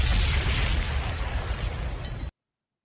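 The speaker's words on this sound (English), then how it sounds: "I love the explosion." A loud, close explosion sound effect bursts at once and rumbles broadly for about two seconds before cutting off abruptly into silence.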